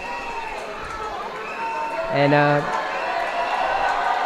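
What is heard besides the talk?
hockey fans cheering and blowing whistles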